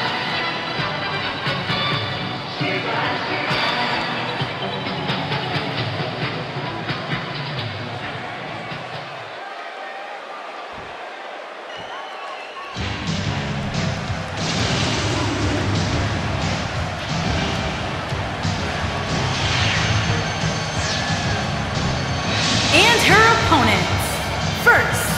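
A wrestling video game arena crowd roars and cheers in a steady wash, dropping off briefly before surging back louder, with commentators talking over it.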